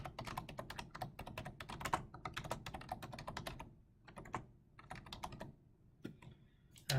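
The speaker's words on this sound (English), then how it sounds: "hit end job and just type in what you were doing" Someone types on a computer keyboard, a quiet, steady run of close clicking keystrokes with brief pauses between bursts and a louder tap at the end.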